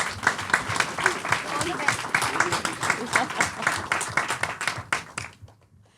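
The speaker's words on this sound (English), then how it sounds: "Okay, clap for them." An audience at a climate debate in Mumbai claps in a lively burst, individual claps standing out near and loud before the sound cuts off abruptly near the end.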